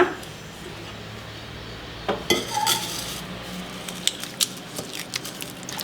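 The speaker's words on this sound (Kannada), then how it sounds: "ಜಸ್ಟ್ ಈ ಥರ ಮಸಿಯೋದ್ರಲ್ಲಿ ಮಸಿದು ಬಿಡಬೇಕು" Metal utensil scraping and clinking against a pot in a series of short, irregular knocks, with a soft squishy mashing of cooked lentils underneath.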